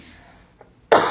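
A single sharp cough from someone just over the flu bursts out near the end, loud and close after a quiet stretch.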